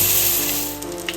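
Socca batter sizzles loudly in a hot pan, a steady bright hiss with faint crackling, close up and continuous, easing slightly as it settles.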